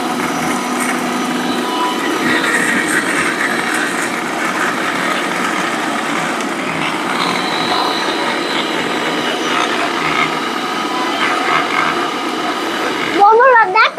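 A blender grinds a jar packed with chips into crumbs, a steady loud whir running throughout, then a sharper rising whine near the end; voices talk over it.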